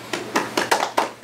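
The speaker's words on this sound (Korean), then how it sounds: "패널을 소개해 주신 두 분께 박수 한번 해주시겠습니까?" A few people clap in a Baptist church seminar session, a handful of separate, fairly close claps at an uneven pace over a quiet background.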